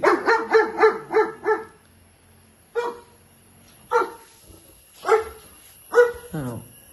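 A dog inside a kennel, a concrete-surrounded enclosure with sheeting on its sides, barks loudly nearby: a quick burst of about six barks, a pause, then four single barks spaced out, with no one talking.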